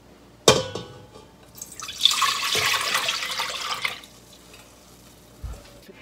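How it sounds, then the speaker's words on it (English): Dashi stock poured into a cooking pot: a sharp clink, then a few seconds of steady splashing liquid, close and clear, ending with a soft knock. "place dashi stock in a pot"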